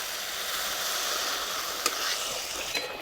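A pan of fish curry broth, a sating fish jhal, boils vigorously with a dense, even bubbling hiss close by, plus a couple of brief clinks near the end.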